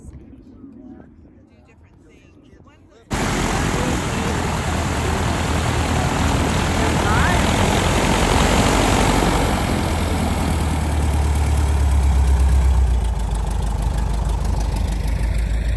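A small propeller plane engine starts loud after a brief quiet moment and holds a steady, droning roar up close, with a person talking under it.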